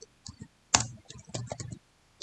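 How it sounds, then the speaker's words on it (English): Scattered computer keyboard key clicks, a few light taps then a louder cluster of presses including the Enter key, close and crisp with no talking. "let's press enter key on our keyboard"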